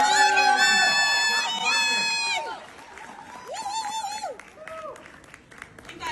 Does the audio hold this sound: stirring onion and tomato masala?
no